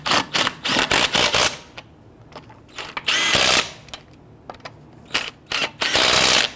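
Short whirring bursts of a power impact tool driving wheel lug nuts down on a Nissan Quest, several separate buzzing runs with quiet gaps and clicks between them, close and loud, with no talk.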